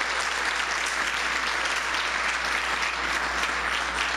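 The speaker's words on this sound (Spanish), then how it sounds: "Dale un aplauso a Dios." Applause from a church congregation, a sustained wash of many hands clapping at an even level, steady and unbroken with a low hum underneath.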